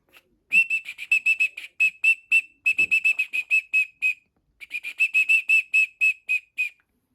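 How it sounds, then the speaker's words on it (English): A carved shorebird whistle blown in quick, bright, chirping trills, two long runs of rapid high notes separated by a short pause, close and clear. "this is like what they'd call a shorebird whistle"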